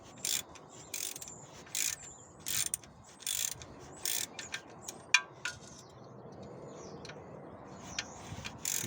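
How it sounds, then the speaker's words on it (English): A ratchet clicks in repeated close bursts as it backs out the 10mm oil sump pan bolts on a VW Golf MK4, with short pauses between turns and one sharper metallic clink. "I'm just going around taking all these 10mm bolts off now"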